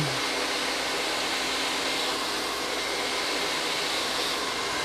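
Hair dryer blowing on curly hair, a loud, constant broadband whoosh running unbroken from start to finish with no talk.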